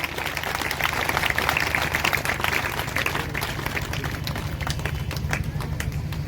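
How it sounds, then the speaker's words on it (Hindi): A church congregation at a Sunday sermon claps loudly and continuously, a dense steady patter of many hands that keeps going throughout, with faint voices mixed in. "यीशु मसीह की जोर से तालियां बजाओ प्रभु के लिए, जोर से जोर से जोर से।"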